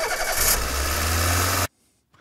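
A recorded car engine roars loudly and close for under two seconds, then stops sharply, leaving near silence.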